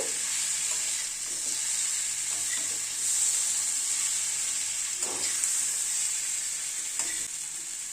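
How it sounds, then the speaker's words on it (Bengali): Small mourala fish being stirred into a frying spice masala, a steady bright sizzle and hiss with a few soft spatula scrapes spaced apart. "এবার মাছগুলোকে দিয়ে দিচ্ছি। মাছগুলোকে দিয়ে মশলার সাথে একটু নাড়াচাড়া করে নেব।"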